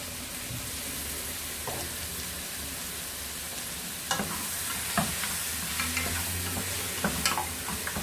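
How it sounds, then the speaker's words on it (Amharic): Chopped onion and garlic fry in a pan with a steady, close sizzle, while a utensil scrapes and stirs through them in sharp intermittent strokes; no one speaks. "ብራውን የሚሆነልኝ ሽንኩርትና ከነጭ ሽንኩርቱ ጋር በደንብ ጠብሰዋለሁ"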